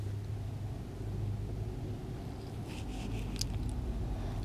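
Steady low road rumble from loud cars passing near a stable yard where a pony is being groomed, a continuous droning wash of traffic noise with no talk.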